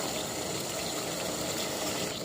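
Water at a rolling boil in a pot with vinegar added for cooking an egg, a steady close bubbling and gushing wash that holds constant throughout, with no voices.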